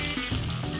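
Garlic and onions frying in a pan of butter and oil, a steady close sizzle with a soft crackling hiss throughout, no voices.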